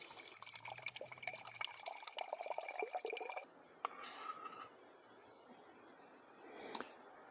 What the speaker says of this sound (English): I've got my water cup, and we're going to fill this up a little bit